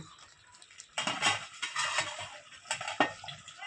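Pots and utensils clatter while 80% cooked rice for chicken biryani is drained in a kitchen, with irregular metallic clinks and scraping bursts and a sharp clang near the end, close and moderately loud.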